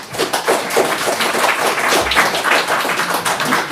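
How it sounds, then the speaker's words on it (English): Audience clapping at a city council meeting in Hutchinson, Kansas: a steady patter of hand claps from several people in a room, fairly close and continuous, with no pause. "technically clapping violates Section 2, so you should not clap for anybody ever"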